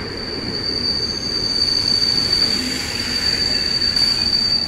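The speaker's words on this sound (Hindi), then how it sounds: "और ये ट्रेन है guys, new Jalpaiguri Amritsar special train" New Jalpaiguri–Amritsar special train rolling on rails, a loud continuous rumble with a sustained high-pitched wheel squeal running through it, close by and without voices.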